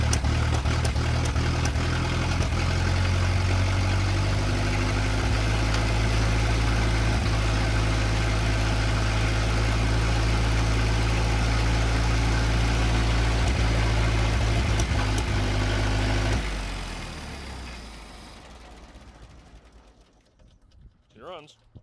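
A 1919 Chevy engine idles high and steady right after its first startup, a loud close drone with rapid ticking that runs about sixteen seconds before cutting off and fading to quiet, with faint voices now and then.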